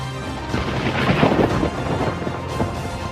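Thunder rolls during a severe thunderstorm, a loud, sustained rumble that swells and fades over a few seconds amid steady rain, with no voices.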